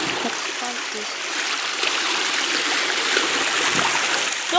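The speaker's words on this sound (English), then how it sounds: "We're walking on the waterfall." Steady rushing stream water pours and splashes at a waterfall outdoors, a continuous close, full hiss with no clear talk over it.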